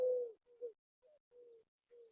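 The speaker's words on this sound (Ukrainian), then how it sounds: "Але пташки співають, краса." A few short, soft bird calls repeat with pauses between them, low and cooing, heard alone in a quiet evening setting.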